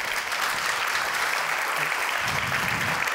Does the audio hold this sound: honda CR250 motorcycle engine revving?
no